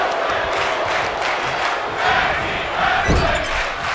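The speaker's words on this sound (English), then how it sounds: "The crowd seems to dig it here in East Rutherford, New Jersey, in this tag team match" A wrestling arena crowd in East Rutherford, New Jersey, during a tag team match in WWE 2K23 roars and cheers continuously, loud and dense, swelling briefly near the end.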